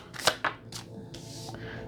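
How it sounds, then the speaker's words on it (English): A deck of oracle cards is given a brief shuffle up close, a few quick papery riffles and flicks with short pauses between them, quiet and alone. "I'm just going to do one little shuffle on camera"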